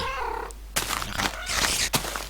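Minecraft cat meowing in a video game, with short tonal mews and soft in-game clicks, fairly close and clear, no voices.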